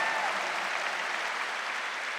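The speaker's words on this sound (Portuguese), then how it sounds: "vamos dar uma salva de palmas" Audience at a Catholic church gathering applauds, a dense, even wash of clapping that fills the whole stretch without fading.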